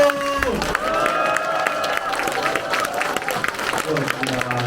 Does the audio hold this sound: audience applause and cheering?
yes